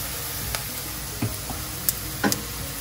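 Turmeric powder dropped into hot oil on a very low flame for a Kerala-style curry, giving a steady soft sizzle with a few small crackles and pops, close and quiet.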